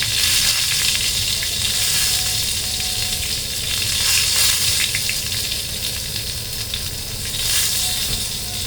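Food sizzles continuously in hot oil in a small pan, a dense, loud frying hiss that holds steady throughout with slight swells and no voices.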